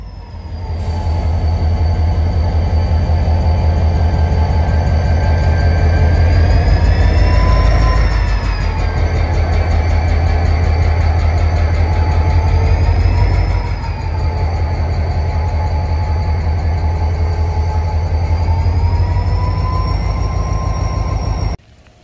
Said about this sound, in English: We made it to Talkeetna just in time to see the Alaska Railway starting to make its departure to the north.